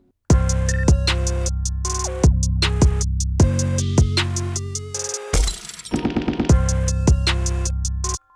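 A trap beat with deep sustained 808 bass and melodic synth layers cuts into a brief dropout of sharp, crackling gunshot-like bursts around the midpoint, then the beat returns loud and dense with no talking.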